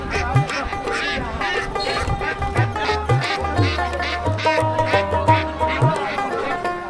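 Native ducks quack over and over at a busy poultry market in Nalitabari, Bangladesh, the repeated calls loud and close above a steady crowd murmur and background voices.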